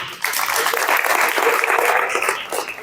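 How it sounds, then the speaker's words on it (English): Audience clapping at a storytelling talk, a steady burst of mixed hands that swells quickly and holds for a few seconds before tapering off. "Can we clap it up for her again?"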